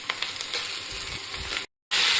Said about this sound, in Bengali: পেঁয়াজটা ভাজতে অনেকটা সময় লাগছে